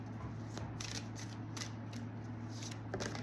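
Oracle cards being shuffled by hand, a steady run of soft riffling flicks and slaps up close against a low constant hum.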